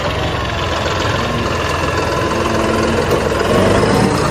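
A loud, steady diesel tractor engine runs continuously nearby, a constant rumbling drone with no pauses.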